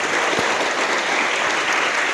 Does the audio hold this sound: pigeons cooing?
no